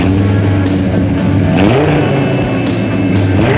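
A 1990s Dodge Viper launching from a standing start, its engine roaring loud and close as it pulls hard through the gears, with a brief dip and rise in pitch at a gear change partway through.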